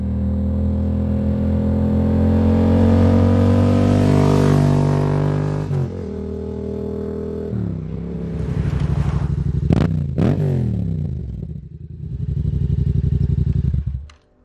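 Motorcycle exhaust revving up to a loud held roar, then crackling and popping sharply as the throttle snaps shut, with a few more blips and pops before cutting off near the end.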